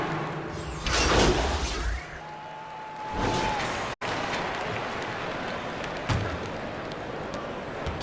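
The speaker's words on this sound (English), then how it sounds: "Applause for your Trailblazers youth dance team" Arena crowd cheering and applauding for the Trail Blazers youth dance team on the court in an NBA 2K24 basketball game, a roaring swell that rises and falls in bursts with a steady crowd bed beneath.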